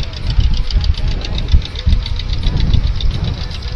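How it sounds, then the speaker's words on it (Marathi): A fishing boat engine runs steadily on a creek, a knocking, chugging mid-pitched drone with a rapid rhythmic pulse, close and loud throughout. "बघा आपल्या आता होडी सुद्धा खाडीच्या दिशेने चाललेले आहे"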